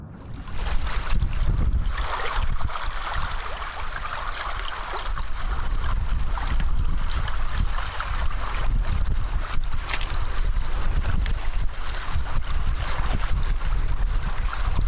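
Strong wind buffets the microphone beside a river during fly fishing in Iceland, a loud continuous roar with gusty surges and rushing water beneath it.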